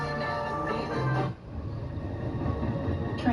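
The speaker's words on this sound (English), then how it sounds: "Trains." A train runs along a rail track with a loud rushing rumble that cuts off abruptly, then continues as a lower, rougher rolling noise.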